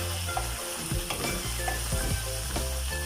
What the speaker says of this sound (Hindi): और तकरीबन 5 मिनट तक हम इसको इस तरह घी में भून लेंगे